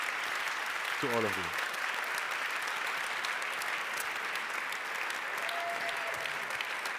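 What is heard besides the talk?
audience applause for the teams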